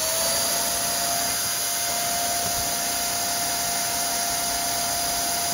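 A Power Egg 110V electric inflator pump runs at full speed nearby, giving a loud, steady, high-pitched motor whine and rushing air that continues unbroken throughout.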